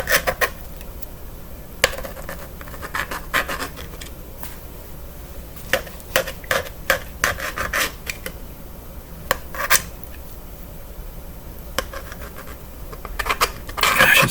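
A knife cutting ingredients for skillet chicken pot pie, irregular scraping and chopping strokes with sharp clicks against the board and cookware, close and fairly loud, with no speech.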